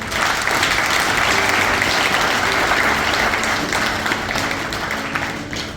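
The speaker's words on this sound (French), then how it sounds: "il est également important de leur accorder un tonnerre d'applaudissements" An audience at a seminar bursts into sustained applause, dense steady clapping from many hands filling the room throughout, with no speech over it.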